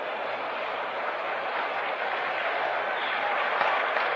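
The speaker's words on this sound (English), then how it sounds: "Now the Indian Prime Minister Nehru is leaving, and that's what causes the stir in the crowd below us." A baseball stadium crowd at the 1960 World Series Game 3, Yankees versus Pirates, stirs and claps with a steady, broad murmur of applause heard from high above.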